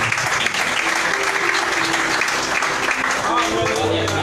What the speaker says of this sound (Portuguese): desocupa as tuas mãos e aplaude a Jesus por gentileza